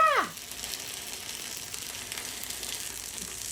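A chia and lentil burger patty mixture drops into hot oil in a pan with a brief sharp hiss at first, then settles into a steady, quiet sizzle of frying that carries on alone.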